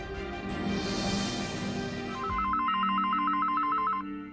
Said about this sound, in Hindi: दामिनी, फोन लो